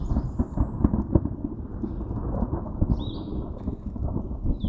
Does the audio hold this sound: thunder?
yes